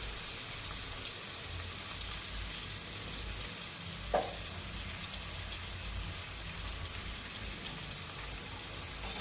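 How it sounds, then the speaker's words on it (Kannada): Capsicum frying in hot oil for Kannada-style fried rice, a steady broadband sizzle holding level throughout with one brief clatter partway through, close and without any talking. "ಆದಷ್ಟು ಕ್ಯಾಪ್ಸಿಕಮ್ ಎಣ್ಣೆಯಲ್ಲಿ ಚೆನ್ನಾಗಿ ಫ್ರೈ ಆಗಬೇಕು."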